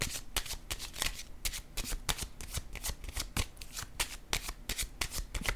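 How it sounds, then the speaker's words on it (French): Playing cards are handled and drawn from a deck close by, with quick, crisp papery flicks and riffles coming in rapid bursts, fairly quiet. "Attendez, je vais piger une autre carte,"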